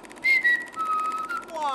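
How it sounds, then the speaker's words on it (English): A person whistles a short melody, loud and close, with a few sliding pitched notes rising and falling over under two seconds, alone with no talk. "And lying in bed, I heard a whistle."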